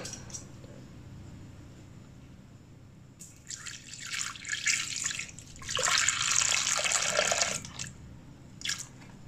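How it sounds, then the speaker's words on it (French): Milk pours into a Thermomix bowl in bursts, a splashing liquid trickle that rises and stops several times against a quiet kitchen background. "On va ajouter à ça les 300 g de lait."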